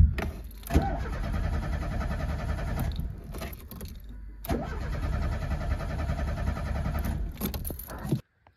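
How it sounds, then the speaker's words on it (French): A broken-down Renault Super 5 GT Turbo cranked on its starter, two rough bursts of churning engine turnover separated by a short pause, close and fairly loud, cutting off abruptly at the end. "Vas-y, mets un coup de démarreur."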